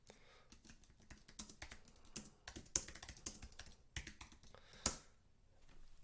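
Typing on a computer keyboard while composing a social media post, a steady run of quick close key clicks with a few louder taps, heard alone with no talk.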